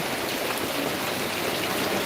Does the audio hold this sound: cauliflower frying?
no